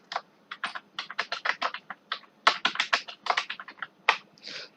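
Keys on a computer keyboard pressed in quick irregular bursts while entering text into a Python program, crisp close clicks with brief pauses between runs of strokes, no voices.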